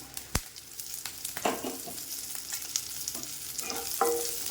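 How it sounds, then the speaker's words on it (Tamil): Green chillies, curry leaves and cumin fry in a pan with a continuous crackling sizzle, broken by a sharp clink near the start and occasional stirring scrapes, fairly quiet and close. "இதையும் போட்டு நல்லா வறுத்துக்கலாம்"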